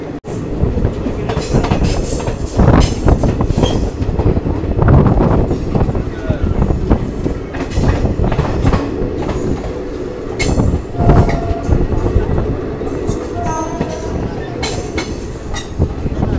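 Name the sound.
train moving into a station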